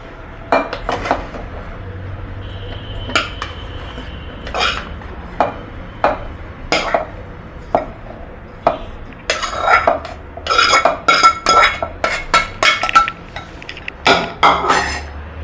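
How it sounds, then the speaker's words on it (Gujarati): Chopped sapodilla pieces dropped into a large steel mixer jar, with repeated sharp metallic clinks and clatters of spoon and jar, sparse at first, then a quick busy cluster near the end. "જે મોટું પવાલું આવે તેમાં આપણે બધા કટકા નાખી દઈશું"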